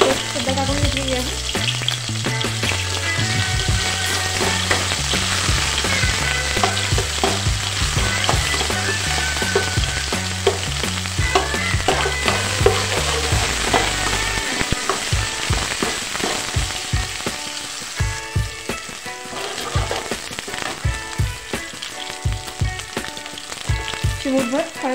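Chopped onion and ginger-garlic paste fry in a pan for chicken liver masala, giving a loud, dense, steady sizzle with crackling bursts and occasional stirring scrapes, and no voices over it.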